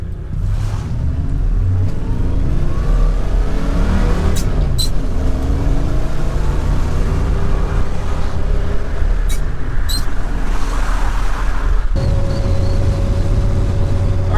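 A pickup truck geared at 3.25 accelerates onto a highway, heard from inside the cab as a loud, steady engine and road drone with gear-change steps and a brief clatter before settling.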